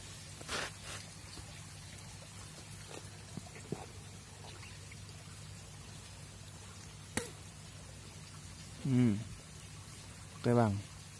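Water from a drip irrigation hose in a hydroponic fertigation setup falls in two distinct drops near the end, quiet against low background hum and occasional small knocks.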